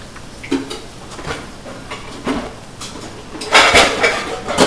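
Frying pans clank and scrape as they are handled in a home kitchen while burgers and fries are cooked, with a few scattered metallic knocks and a louder clatter near the end.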